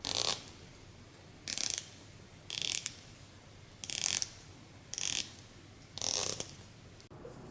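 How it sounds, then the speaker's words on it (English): The 120-click bezel with an aluminum insert on a Casio Duro dive watch is turned in six short bursts of rapid, crisp ratcheting clicks, heard close up with quiet pauses between. "The bezel rotation is not very smooth and it sounds quite ratchety."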